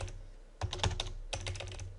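Computer keyboard typing while entering a payment method into a spreadsheet column for small-business bookkeeping; two close bursts of quick key clicks separated by a brief pause, with no talking.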